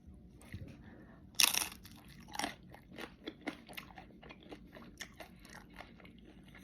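Small crispy tacos bitten and chewed close to the mic, one loud crunch followed by a run of softer, irregular crunching chews.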